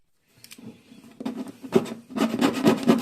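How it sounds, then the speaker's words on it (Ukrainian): Sandpaper scrubs old glue off the wooden body of a broken guitar. Irregular bursts of rough rasping strokes come close to the microphone and speed up toward the end, with no talking. "А зараз хапаємо наждачку і починаємо це все діло гарненько, потихеньку зішкурувати все, що тут було наклеєно."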